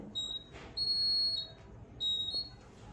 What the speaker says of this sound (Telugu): అప్పుడైతే అలారం అయితే బీప్ అవుతుంది